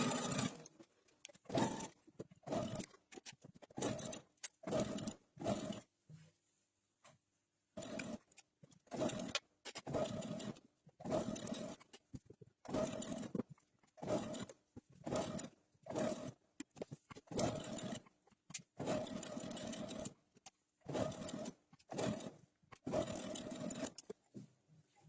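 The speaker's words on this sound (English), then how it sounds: "Let me go to my sewing machine." A sewing machine gathers satin fabric for a hair bonnet, running in many short bursts separated by brief pauses, close and moderately loud.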